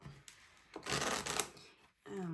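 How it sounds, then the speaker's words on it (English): A deck of tarot cards is shuffled up close, a quick riffling burst of flicking card edges with softer shuffles before and after, in a quiet room. "Let me shuffle the cards. Enjoy the card shuffling."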